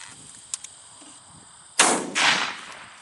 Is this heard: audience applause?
no